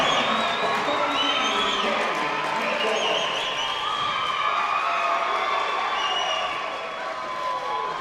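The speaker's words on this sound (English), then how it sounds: "you can hear the crowd" Crowd cheering and shouting at a high school wrestling match in a gym, loud and sustained throughout after a pin, with a commentator talking over the noise.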